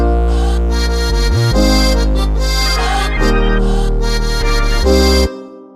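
Two layered organ sounds in FL Studio, one low and one high, play sustained chords that shift every second or so, with a held bass under brighter upper tones before cutting off cleanly.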